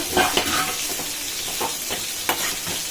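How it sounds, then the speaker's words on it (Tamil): Close, steady sizzling of fish roe frying in hot oil, with a few sharp pops and crackles rising above the hiss. "இதில் எண்ணெயிலேயே நல்லா பரட்டி பரட்டி வேக விடலாம்"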